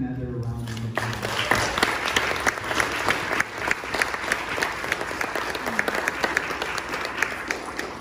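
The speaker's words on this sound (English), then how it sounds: "Let's give them another round of applause." After a school vesper concert by children, tonal sound and a voice fade out as a congregation breaks into full, steady applause that carries on for several seconds, dense and even, with some voices mixed in.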